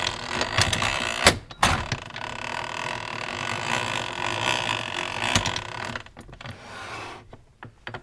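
A Boutell Triumph antique apple peeler is cranked so its gears turn, driving a paring knife, coring spoon and ejector foot, and it gives a continuous close whirring rattle of meshing gears with sharp clicks and knocks before slowing at the end.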